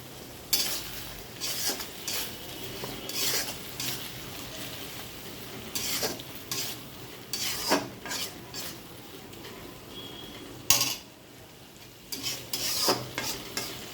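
Ground coriander, cumin and dried chilli paste fries in a pan for goat head curry, a soft continuous sizzle broken by repeated scraping strokes of a spoon against the pan, close and unaccompanied by speech.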